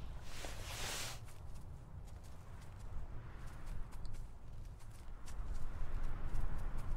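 An animal walks through terrain in The Hunter, an ibex hunting game, its footsteps a series of soft irregular thuds and crunches over steady outdoor ambience, growing somewhat louder toward the end.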